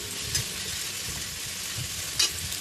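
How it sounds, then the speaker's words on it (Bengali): Chopped tomato with grated ginger frying in a pan, a steady soft sizzle with faint stirring scrapes, a couple of brief louder crackles near the end, no voices. "এটা একটু ভাজা ভাজা করে নিলাম"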